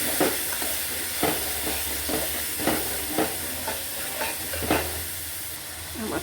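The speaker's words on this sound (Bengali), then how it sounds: "এখন আরেকটু নারকেলের দুধ দিয়ে কষিয়ে নেব।" Shrimp stir-fried in coconut milk in a pan: a steady, close sizzle runs throughout, broken by repeated scraping strokes of a stirring spoon, with no voices.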